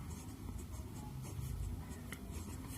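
Handwriting an algebra equation on paper, steady rustling pen strokes heard close up over a low background hum, continuous and fairly quiet, with no voice over it.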